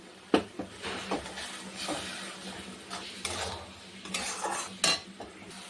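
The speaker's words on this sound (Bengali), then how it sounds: "এরকম মশলাটা কষানো হয়ে এসছে।" Spice masala with turmeric, Kashmiri chilli powder and cumin powder being stirred and fried in a pan, giving repeated scraping clinks of a metal spoon against the pan over a low background, with no talk.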